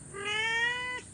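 A mother cat gives a single clear, drawn-out meow close by, about a second long, steady and tonal before tapering off, with no talking.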